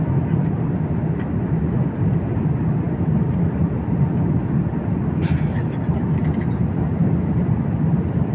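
Cabin noise on a passenger jet cruising over the Australian coast toward Singapore: a constant, loud, low broadband engine and air roar that stays even throughout, with a few faint clicks near the middle.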